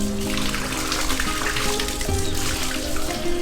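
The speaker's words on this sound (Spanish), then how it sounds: "Es agua de manantial que se puede tomar, completamente natural." Spring water pouring from taps at a well in Papantla, Veracruz, a steady splashing gush into water below, loud and close, alone without talk.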